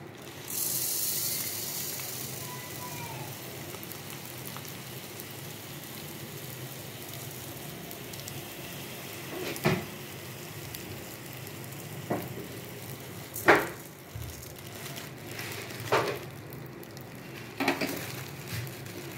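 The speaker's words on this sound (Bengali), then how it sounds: "এবার এর মধ্যে আমি মুগ ডালটা একটু ঝটপট ভেজে নেব।" Moong dal frying in homemade ghee in a wok. A soft, steady sizzle hisses throughout, with a brief louder burst at the start and a few sharp clinks and scrapes from stirring in the later seconds. No one speaks.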